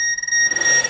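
A Star Trek: The Next Generation medical tricorder toy emits steady high electronic tones, joined by a brief burst of softer chirping noise partway through, loud and close with no talking.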